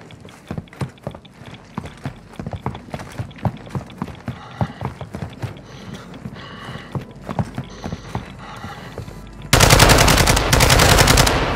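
Machine gun fire in Call of Duty Warzone DMZ rattles in rapid bursts of sharp shots, growing into a loud, continuous roar near the end.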